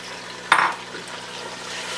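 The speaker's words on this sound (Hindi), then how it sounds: "और अब मैं इसमें ये गोश्त ऐड कर दूँगी।" Mutton is dropped into lightly fried onions in a pot and gives a brief sizzle, followed by a quiet, steady frying hiss.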